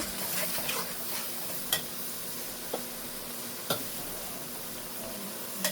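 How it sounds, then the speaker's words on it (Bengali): Turmeric and ground spices sauté in a pan for a prawn and hilsa fish curry, a soft steady sizzle broken by a few sharp taps of a stirring spoon. "হলুদ, মশলাটা সুন্দর করে কষিয়ে নিব।"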